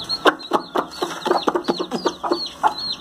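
A chicken clucks repeatedly in quick, uneven bursts, close and fairly loud, with no one talking.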